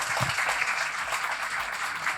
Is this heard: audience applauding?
yes